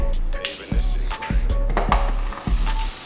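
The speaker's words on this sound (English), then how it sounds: "I got the pan at a medium high heat, so I'm gonna go ahead and drop this butter off in there" Half a stick of butter dropped into a pan on medium-high heat, a steady hiss of sizzling with a few sharp clatters and scrapes at regular intervals, close and fairly loud.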